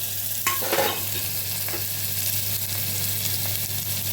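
Chopped onions and green chilies frying in a pan for a cashew curry, a steady close sizzle with a brief stirring scrape near the start and a low electrical hum underneath.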